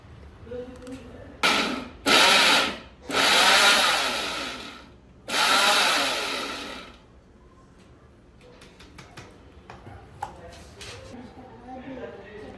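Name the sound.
mixer grinder grinding spice masala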